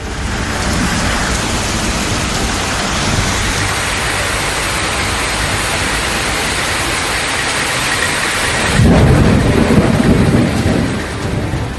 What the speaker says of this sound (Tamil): விளமல், மாப்பிள்ளைக்குப்பம், சன்னாநல்லூர் உள்ளிட்ட பகுதிகளில் கனமழை பொழிந்தது.